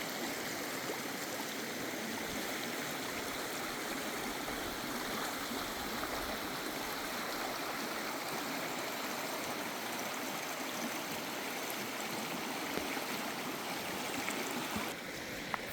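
Creek water runs over stones in a steady, continuous rushing burble, close and fairly loud throughout with no other distinct sounds.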